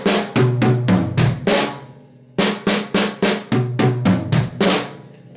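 A drum kit plays a beat on the mid tom with bass drum and flams, loud close hits in two even phrases of about six strokes each, separated by a brief pause, with no talking.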